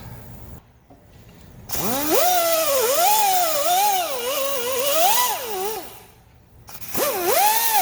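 A power tool pulls the tensioner bolt on a Mustang, bursts of whining motor rising and falling in pitch, loud and close, separated by brief quiet pauses.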